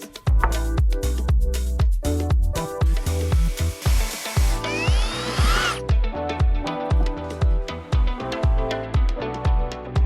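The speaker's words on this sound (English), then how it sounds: "I'm then going to screw down these 4x1 planks to the front" A power drill drives screws through 4x1 timber planks into posts for an outdoor kitchen, giving loud repeated short whirring bursts in a quick rhythm, with a brief hissy stretch midway.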